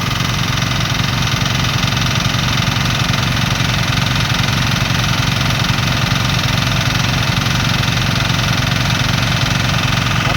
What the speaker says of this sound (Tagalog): Isang linyang hose, dalawang makina.